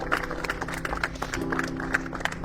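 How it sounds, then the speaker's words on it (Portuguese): A church congregation applauding: steady, dense clapping from many hands, moderately loud and filling the room, with a low sustained tone beneath and no talking. "Dê um aplauso bem grande, bem alto a Jesus"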